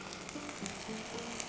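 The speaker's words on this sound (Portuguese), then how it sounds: "Parece estar bem quente e super crocante com esses sons de fritura." Flour-dusted chicken wings just out of an air fryer give off a steady, close, crackling sizzle with fine popping throughout, with no voices.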